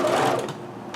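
A sewing machine stitching a kimono seam gives a quick burst of whirring, close and moderately loud, then eases off toward the end.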